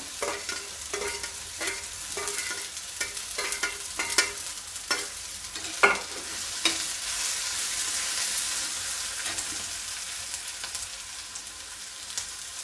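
Garlic frying in a pan for spicy Kolhapuri thecha, with crackling sizzle and a run of sharp stirring scrapes and clinks in the first half, then a steadier hiss with fewer strokes; no talking.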